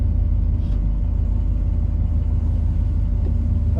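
A 1985 Chevrolet K5 Blazer engine idles steadily and close, a low rumbling drone with a rhythmic pulse and a faint whine, continuous throughout.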